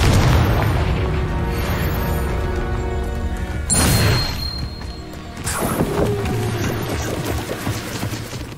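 Confringo spell blasts in a Harry Potter video game land as heavy booming explosions, one near the start running into another around the middle and a third shortly after, each with a rumbling tail.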